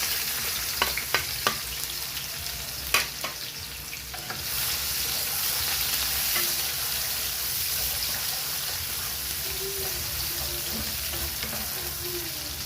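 Onion and garlic sizzle steadily in a hot pan, with a few sharp clinks of a utensil stirring early on, then a continuous soft frying hiss.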